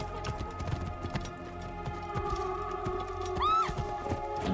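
Horse hooves clopping in Assassin's Creed Origins, quieter and less distinct strikes over a humming game ambience, with a short whinny near the end and no speech.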